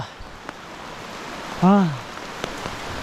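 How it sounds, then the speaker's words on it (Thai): Rain falls in a forest as a steady, soft hiss of drops throughout, broken midway by one brief tonal call. "เพิ่งจะตื่นเช้ามาก่อไฟเองนะ ฝนก็ตกอีกแล้ว"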